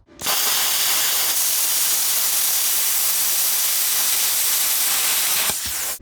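Tooliom 220V plasma cutter slicing through 1/8 inch metal, a loud steady hissing roar that holds for about five seconds before cutting off abruptly.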